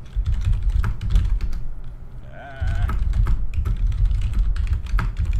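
Rapid clicking of keys on a computer keyboard during an online Dota 2 match, close and irregular, over a low background rumble, with a short tonal warble partway through.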